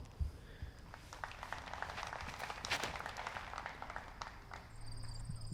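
Faint, distant applause drifts over from an adjacent fairway at a disc golf tournament, a soft patter of scattered claps rising and falling over quiet outdoor ambience.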